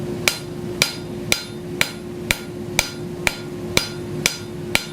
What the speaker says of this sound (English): The hotter this is, the deeper your sharp cuts will hammer in